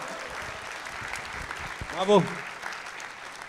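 A crowd at a live NBA podcast recording in Paris claps in a soft, steady wash, heard at a distance, while a single voice calls out briefly partway through.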